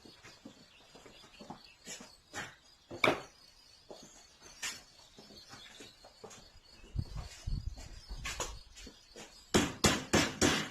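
A small mallet strikes repeatedly during work on a cart, producing sharp, irregular knocks of varying strength, with a quick burst of closely spaced blows at the end, over faint background rustle.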